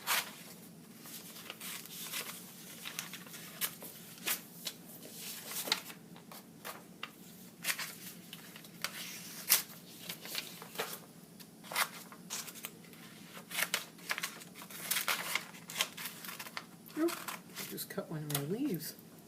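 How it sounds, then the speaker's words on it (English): Scissors cutting out paper leaf shapes in a craft studio, a string of quiet snips and rustles of paper at an irregular pace, with a voice speaking at times. "So I'm going to start cutting mine out."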